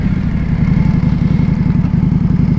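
A cruiser motorcycle rides steadily along the road at night, its engine a low, dense, continuous rumble with rapid firing pulses, loud and close throughout with no voices.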